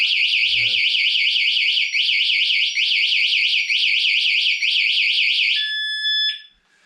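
A motorbike's security alarm blares right after the bike is locked, a loud, close, continuous warbling electronic tone that rises and falls steadily for about five seconds, then settles into a steady beep before cutting off.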